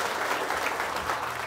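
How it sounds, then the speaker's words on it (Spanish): A congregation at a patronal feast in Teloloapan, Guerrero, claps to welcome a new priest, a brief continuous patter of many hands at moderate volume. "Vamos a darle un fuerte aplauso al Padre"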